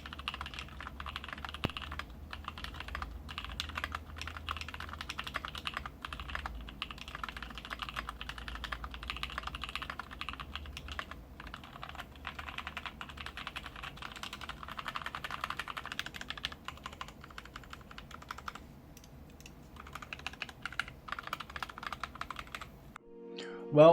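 Keystrokes from a custom mechanical keyboard, built by a professional to a client's specification, clatter in a steady, continuous rhythm for the whole stretch, close and alone with no talk.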